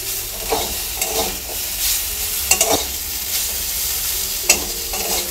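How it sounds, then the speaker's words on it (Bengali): Gourd leaves frying in a pan in a rustic village kitchen, a steady sizzle broken by repeated scraping stirs and a few sharp utensil knocks close by. "আমি পাতাটা ভেজে রান্না করছি"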